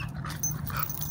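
A dog pants and sniffs briefly up close in a park, soft breathy sounds over a low outdoor hum.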